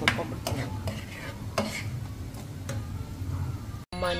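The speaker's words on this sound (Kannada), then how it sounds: "ಇದಕ್ಕೀಗ ಒಗ್ಗರಣೆ ಕೊಟ್ಕೊಂಡ್ಬಿಡ್ತೀನಿ" Whole spices tempering in hot ghee for a Ganesha festival offering dish, a steady close sizzle with stirring scrapes and a few sharp clinks of a utensil against the pan.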